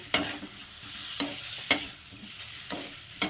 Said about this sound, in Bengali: এখন এটার সঙ্গে আমি পাঁচ মিনিট একটু কষিয়ে নেব